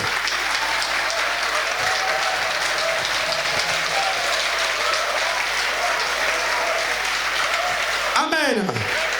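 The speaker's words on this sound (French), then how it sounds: "Applaudissez pour le Seigneur" A church congregation claps in praise of the Lord, a sustained, dense roar of applause filling the hall, with a voice breaking in briefly near the end.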